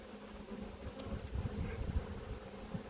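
Honey bees hum steadily inside an open hive while its frames are being inspected, a low, dense, continuous drone with faint rustling, with no voices.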